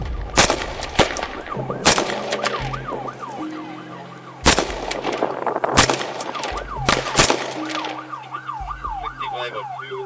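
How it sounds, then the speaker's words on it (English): Police officers fire repeated gunshots, heard as loud close bursts in a rapid cluster at the start and again midway, under a continuous wailing emergency siren and engine rumble. "shots fired"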